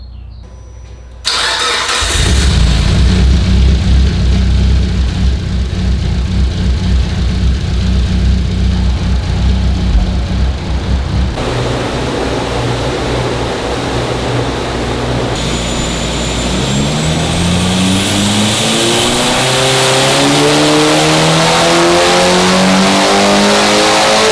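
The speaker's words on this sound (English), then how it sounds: "About to start the car, see how it goes." A Mitsubishi Evo 8 fitted with 272R camshafts cranks and fires up on a dyno, settles into a loud, lumpy idle, then revs hard with rising engine pitch, close and continuous with no talking.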